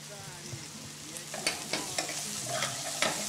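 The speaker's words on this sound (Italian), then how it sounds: "mescoliamo il tutto" Onions with olive oil and rosemary being stirred in a pan, a soft steady sizzle broken by repeated scraping strokes of the spoon, close and quiet.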